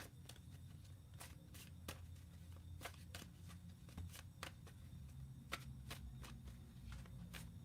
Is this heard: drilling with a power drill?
no